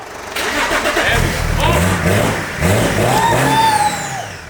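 An M57-engined Toyota Hilux cranks and fires after a jump start, rough turning over followed by rising revs and a settled run, loud and close, with a voice talking briefly.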